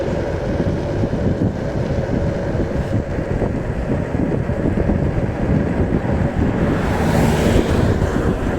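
Steady, heavy wind buffeting roars over the microphone while riding an HX X8F electric scooter at about 35 km/h on a flat road, continuous and loud with no talking.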